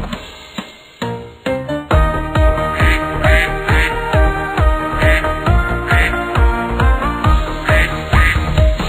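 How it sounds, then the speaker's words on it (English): A steady run of duck quacks repeats in a quick, even rhythm, loud and close, over the musical backing of a children's nursery rhyme song. "Mother duck said quack"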